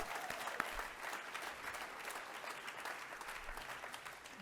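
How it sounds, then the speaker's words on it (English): An audience at a courage and strength celebration breaks into steady, dense applause, a soft continuous patter of many hands heard from some distance with no talking over it. "I think that you all deserve a round of applause"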